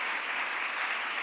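Church congregation clapping together during a worship service, a dense, steady wash of applause from many hands filling the room without a break.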